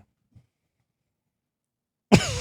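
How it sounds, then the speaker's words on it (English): A single sharp cough bursts out at the end after near silence, close and loud, with a rough rasping tail. "I still have a cough."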